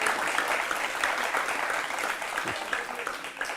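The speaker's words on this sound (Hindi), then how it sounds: "तालियों की ये गूंज बता रही है" A large audience applauds at a gathering celebrating the Ayodhya Ram Mandir. The clapping is dense and sustained and fills the whole moment without pause.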